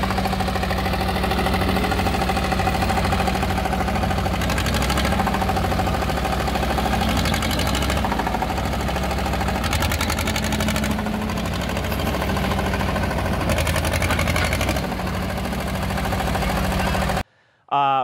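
A 1954 Caterpillar D2 crawler tractor engine idles steadily with a low, even knocking rumble, loud and close throughout before cutting off abruptly near the end.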